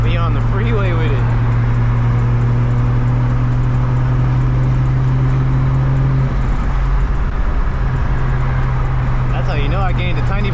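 A 2JZ-swapped Nissan 370Z cruises on the freeway with a loud, steady engine drone and road roar that shifts pitch partway through, then settles.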